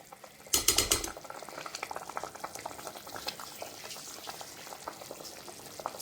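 Water comes to a boil in a pot for mutton biryani, giving a steady, close bubbling and simmering that runs the whole time, with a louder burst of clattering and stirring near the start.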